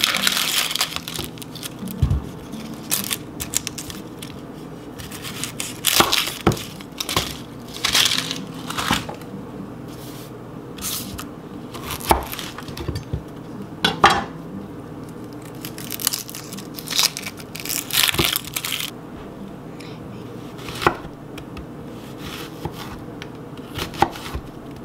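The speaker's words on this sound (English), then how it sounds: "And I'm going to slice my onion." A knife slicing an onion on a cutting board, irregular crisp crunching cuts and thuds at varying pace, close and clear with no talking.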